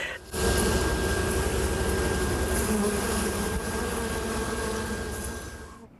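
Bees buzzing around beehives kept for honey production, a steady, dense, continuous drone that holds loud for about six seconds before fading at the end, with no talking.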